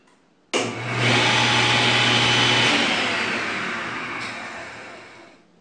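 The rewired electric motor on a saw, converted from 240 to 120 volts, starts abruptly and runs with a loud, steady whir and hum. Its tone drops after a couple of seconds and it slowly winds down.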